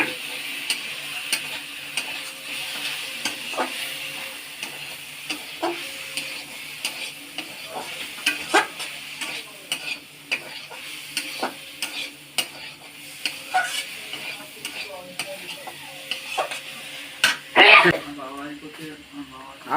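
Food is stir-fried in a pan as soy sauce and then tomato sauce are added, with steady sizzling and repeated stirring scrapes and taps throughout, close and fairly loud.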